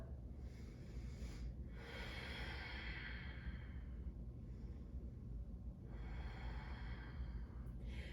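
Slow, deep breaths during a prenatal yoga stretch, each long exhale rushing softly and close at roughly two-to-three-second intervals, quiet and alone with no speech.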